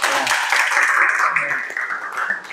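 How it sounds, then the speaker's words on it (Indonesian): A crowd applauding steadily, a dense wash of many hands clapping at fairly close range, tapering slightly toward the end. "tepuk tangan"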